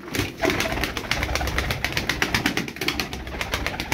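Pigeons coo softly in a rhythmic, repeated pattern close by, with a faint flutter of wings in the background.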